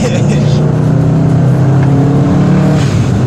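Turbocharged tuned car accelerating hard as boost builds, a loud steady engine roar heard from inside the cabin, with voices talking over it.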